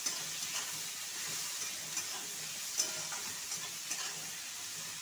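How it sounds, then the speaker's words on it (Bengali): Onion, salted, frying in oil in a pan for a fish curry, a steady close sizzle and hiss with occasional light stirring scrapes, no talk. "পেঁয়াজটাকে লাল লাল করে ভেজে নেব।"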